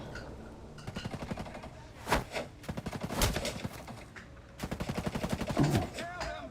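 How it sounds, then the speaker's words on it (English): Video game gunfire in a tactical shooter, bursts of rapid automatic shots and sharp single cracks coming in several volleys, fairly loud and close. "I'm still getting shot, so I can hold him and shoot"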